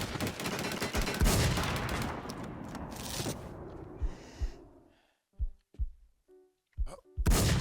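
Gunfire in a shooting video game, a dense burst of rapid shots that fades out, followed by a few scattered single sharp reports against near silence.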